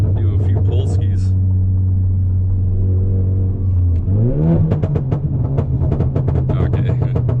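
A Ford Focus RS in track mode revs hard and accelerates, its engine note holding a steady drone before climbing in pitch through a gear, loud and close from inside the car, with someone talking over it.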